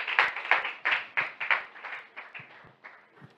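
Scattered audience clapping at a church graduation testimony gathering, a handful of uneven claps that start fairly loud and thin out toward the end.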